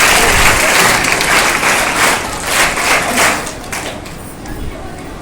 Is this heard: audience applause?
yes